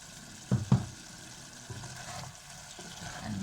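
Turkey goulash with stock and salt being stirred in a pan, a soft scraping and gentle sizzle with two sharp clinks of the utensil early on, then steady low stirring.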